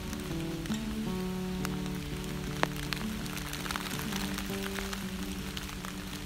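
Running tap water pours over pumpkin seeds taken from a jack-o'-lantern, a steady soft splashing patter lasting throughout at low volume, with occasional small clicks and knocks in the background.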